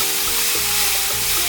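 Mung bean sprouts and garlic chives stir-fried in a hot pan, giving a loud, continuous sizzle and hiss with faint stirring and scraping underneath.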